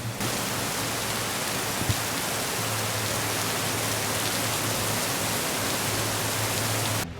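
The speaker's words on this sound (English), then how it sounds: "A little bit of rain today." Steady rain falling on a March day, a dense, even hiss that fills the whole stretch at constant loudness, with no voices.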